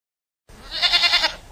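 A single sheep lets out one close, clear bleat lasting about a second after a moment of silence, with a wavering, nasal tone.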